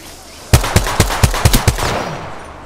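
Rapid automatic gunfire in the Apex Legends video game, seven sharp close bursts in a quick uneven rhythm, followed by a fading tail and quiet background.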